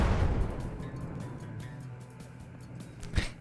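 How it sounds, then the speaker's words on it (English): In a video game, a shot fired into a room sets off an explosion. A loud, broad blast opens and fades into a rumbling decay, and a sharp pop comes near the end. No one speaks. "See, it's all about just making sure it's far enough in that you can try and contain the explosion."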